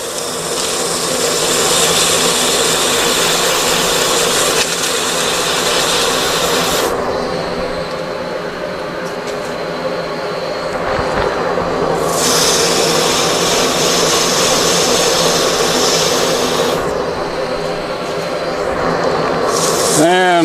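Sandpaper rubs steadily against a wooden tool handle spinning on a lathe, in bursts of bright hiss. A dust collector hums underneath, and a voice talks through the sanding.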